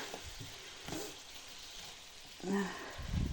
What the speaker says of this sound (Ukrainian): Помішуємо наші овочі